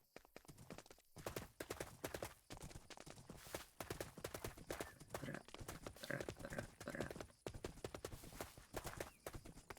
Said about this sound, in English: No, I think it's just the horse making that noise.